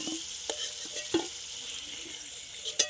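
Potatoes fry in oil in a home kitchen pan, producing a soft, steady sizzle with a few light knocks and scrapes from stirring, all fairly quiet.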